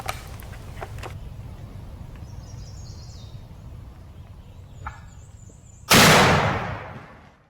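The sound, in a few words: vocal wild bird calling, likely turkey gobbling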